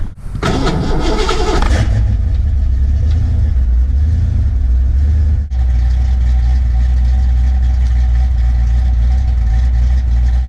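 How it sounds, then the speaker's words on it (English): A Ford Mustang Fox-body engine cranks with a loud, broadband burst for about two seconds after a coolant drain, then settles into a steady, low rumbling idle close by. "I'm going to go ahead and start the car up, let the water pump spin"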